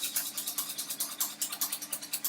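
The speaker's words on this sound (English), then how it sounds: "So I'm just going to keep adding a bit of milk to it." Whisk beating homemade custard in a pan as milk is added, a fast, even run of bright scraping strokes, about eight per second, close up and alone.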